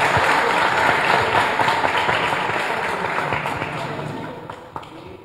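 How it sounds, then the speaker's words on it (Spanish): Audience applause at a sports recognition ceremony held by the Lago Agrio mayor's office, honoring athletes and officials; dense, steady clapping from a large crowd that fills the whole stretch and slowly thins toward the end. "Fuerte los aplausos, por favor."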